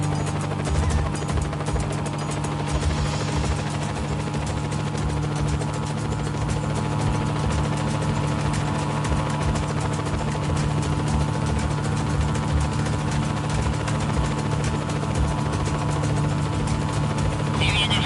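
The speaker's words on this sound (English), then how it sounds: "Bring that chopper down!" A helicopter in the video game Just Cause 4 drones with a loud, steady rotor and engine roar that stays constant throughout, with no breaks.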